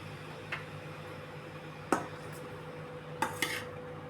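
A lid goes onto a cooking pot of wheat rava upma, giving a few faint metallic clinks and taps spread across a quiet kitchen, with no speech.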